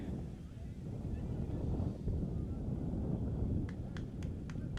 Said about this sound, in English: A little windy, wind blowing.